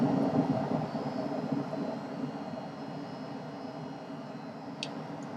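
Rocket engine launching at full throttle in Kerbal Space Program, a steady broadband roar holding loud and close throughout, easing slightly toward the end with a brief high chirp near the finish.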